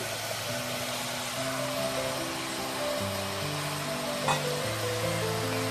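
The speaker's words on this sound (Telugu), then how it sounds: "వేసి 2 మినిట్స్ కలుపుతూ వేయించుకోవాలి." Bottle gourd pieces with turmeric and tomato are stir-fried in a pan, giving a low, steady sizzle with faint stirring scrapes, quiet and continuous with no talking.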